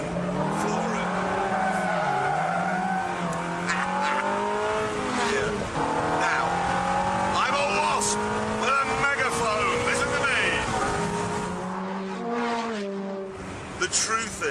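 A high-revving sports car engine screams at full throttle, rising in pitch through the gears with tyre squeal, loud and close throughout.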